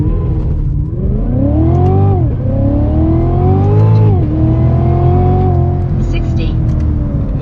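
A Cadillac CTS-V3 accelerating at full throttle, its engine note climbing steeply through three gear pulls with brief dips at each shift, loud and close from inside the car.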